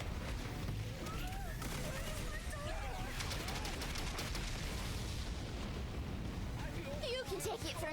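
Missiles fired in The Hundred Line, a dense crackling barrage of rapid bursts and explosions running throughout at steady loudness, with squealing tonal effects scattered over it.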